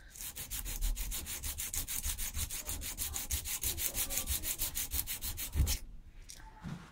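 Emery paper rubbed by hand on a small steam engine pump part for a 3-inch vertical pump, a quick steady back-and-forth rasping close up for about six seconds, then a few faint scrapes.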